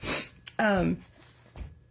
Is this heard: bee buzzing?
no